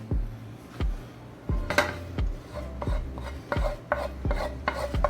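Ingredients dropping and scraping into a cooking pot for lazy golumpki, a series of sharp clattering knocks and rasping scrapes at irregular intervals, close and fairly loud, with no talking.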